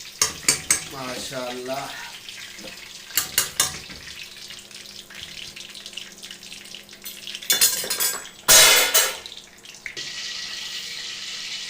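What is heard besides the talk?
Peshawari kebabs frying and being taken out of the pan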